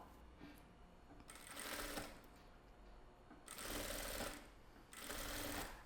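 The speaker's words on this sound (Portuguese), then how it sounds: "eu tô costurando, ó, bem aqui na beiradinha" Sewing machine stitching along the edge of a dish towel, running in three steady bursts of rapid mechanical whirring separated by short pauses, close and clear with no talking.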